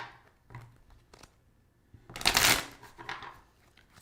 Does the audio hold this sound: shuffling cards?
yes